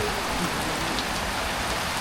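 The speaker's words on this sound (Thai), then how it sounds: "ฝนตก" Steady rain falls at a resort in Lopburi, a dense, even hiss of drops close by that holds without a break.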